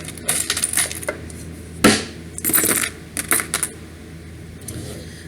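Playing cards are shuffled and riffled in short bursts of crisp flicking and snapping, close up and fairly quiet.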